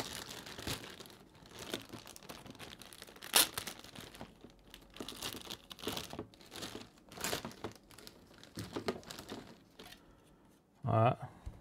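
Tape being peeled and torn off a stapled cardboard box holding a Tamiya Top-Force Evo RC car, giving close crinkling, ripping and rustling bursts of varying loudness, with a quiet voice now and then.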